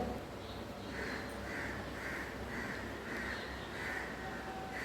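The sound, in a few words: crow cawing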